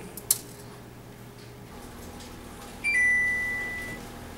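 An oven control panel sounds a single long electronic beep as it is set to 500 degrees for a prime rib roast, clear and close in a quiet kitchen, with a faint clink just before it.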